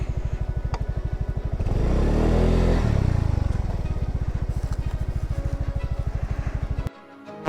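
A motorcycle engine idles with a steady, rapid chug, swells in a brief rev near the middle, then settles back and cuts off abruptly at the end, close and loud outdoors at night.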